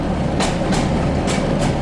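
Train running on rails, wheels rumbling steadily with a few periodic clacking bursts over joints, heard from inside the carriage on a UK line to Blackpool.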